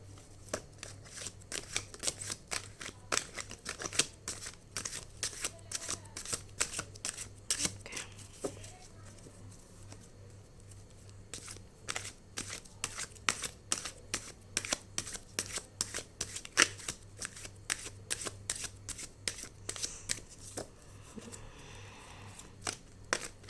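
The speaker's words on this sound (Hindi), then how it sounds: "सारे कार्ड्स जंप कर रहे हैं।" A deck of tarot-style cards is shuffled again and again, giving crisp, rhythmic riffling and flicking clicks close to the microphone over a low steady hum, with short pauses between passes.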